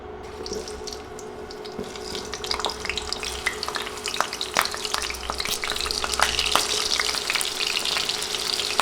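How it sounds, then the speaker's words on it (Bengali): Five small cut potatoes fry in hot oil in a pan, producing a steady dense crackle with sharp scattered pops, close and prominent with no talking. "তেল গরম হয়ে এলে আলু ভেজে নিব পাঁচটা ছোট সাইজের আলু এখানে কেটে নিয়েছি আলুগুলো তেলে দিয়ে দিচ্ছি"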